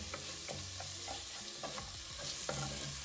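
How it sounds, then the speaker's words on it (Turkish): Onions with a spoonful of sugar sizzle while caramelizing in a pan, a soft steady frying hiss punctuated by repeated scraping stirs of a utensil, close and without talk. "Soğanların güzel karamelize olması için."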